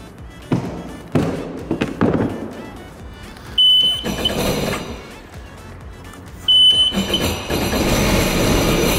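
A jet ski engine with a failing cylinder misfires, giving uneven sputtering bursts and coughs with gaps between them. Two sharp high beeps sound partway through.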